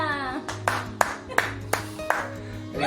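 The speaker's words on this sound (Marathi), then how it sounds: "टाळ्या" Several sharp hand claps, about six evenly spaced, ring out indoors at a Maharashtrian couple's home, loud and distinct over a faint steady hum.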